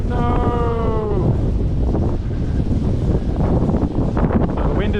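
Gusty wind buffets the microphone beside a creek during a fishing session for mangrove jack and barramundi, a steady broadband rush with a short whistling tone at the start and faint voices beneath.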